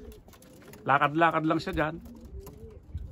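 Young pigeons perched on a landing board give a short, throaty cooing call lasting about a second, heard close and clear while someone speaks quietly nearby.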